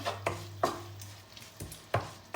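A spoon scrapes and stirs through thick lemon pickle with jaggery in a pan, giving a few separate close scrapes and knocks spaced out over a steady low hum.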